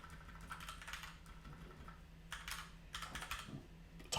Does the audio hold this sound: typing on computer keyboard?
yes